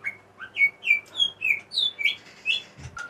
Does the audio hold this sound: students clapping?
no